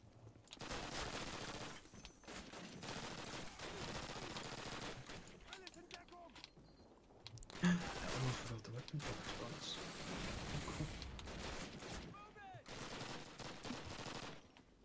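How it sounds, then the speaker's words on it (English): Light machine gun fire in Call of Duty 1 with an Axis player mod, rapid bursts of automatic fire from the woods ahead, repeated volleys with short gaps, fairly loud within the game's ambient sound. "There is a light machine gun somewhere in the woods ahead of me."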